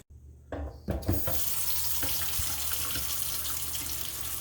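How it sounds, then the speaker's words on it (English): A kitchen tap runs into a sink, and the water rushes steadily and close as the basin fills, with a few clunks at the start. "I just like to fill my sink up with some water"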